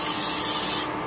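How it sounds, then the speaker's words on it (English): Pam cooking spray hisses into a pan for rice in a home kitchen, a single brief close-up burst of steady spray that stops abruptly. "first I spray with Pam."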